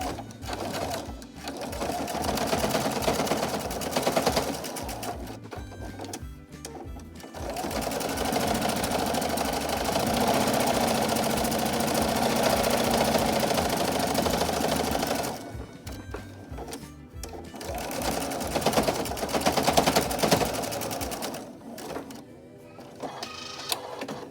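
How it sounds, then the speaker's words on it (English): A sewing machine runs in long steady bursts while back stitching a pleated fabric mask, its motor whirring close and loud, pausing briefly between runs before starting again. "Just get a back stitch for that."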